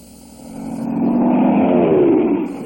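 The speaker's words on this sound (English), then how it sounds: "Hey, that was a plane. Boy, was he low." A low-flying airplane passes overhead, its engine roar swelling from a distant drone to a loud, close rumble with a shifting pitch sweep, then starting to fade.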